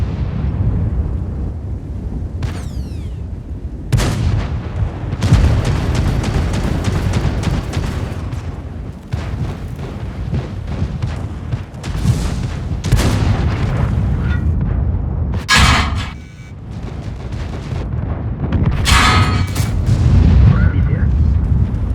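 Tank guns firing in World of Tanks: a series of heavy, booming cannon shots spaced several seconds apart, loud and close, over a constant low engine rumble, with a player talking between shots.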